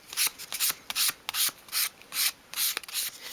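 Fine grade sandpaper worked by hand over a small wooden piece for a 1/12th scale dollhouse bookcase gives a quick series of about a dozen short, rhythmic rasping strokes, close and distinct.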